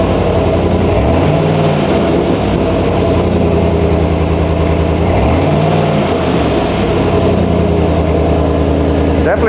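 A Chevy Silverado fitted with a FlowMaster 40 Series exhaust rumbles loudly and close, its deep throaty idle swelling into a couple of brief revs before settling back.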